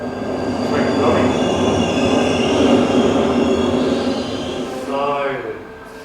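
A train pulls in with a loud rumbling roar and some high metallic squeal, then eases off toward the end.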